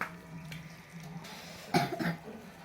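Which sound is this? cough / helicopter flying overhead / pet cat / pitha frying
cough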